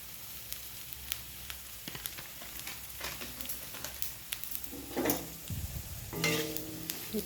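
Potatoes with cumin and coriander powder frying in oil as they are stirred, giving a soft continuous sizzle broken by scraping and knocking of the spoon against the pan, close up and quiet.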